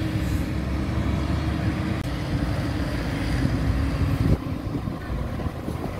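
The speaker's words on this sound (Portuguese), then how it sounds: "O caminhão, né, tá saindo." Loaded sugarcane truck pulling away from a mill in Pernambuco, a rumbling low engine roar that holds steady, then drops off as it moves away, with background yard noise.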